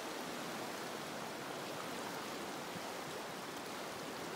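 Steady broadband rush of the Brazeau River flowing past its bank on a clear backcountry day, a constant moderate wash with no breaks and no voices.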